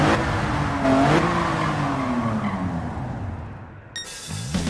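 A race car in Gran Turismo 7 roars under hard driving, its engine note rising and falling with tire squeal and skidding. The sound is loud and close, and a sharp shift in tone comes near the end.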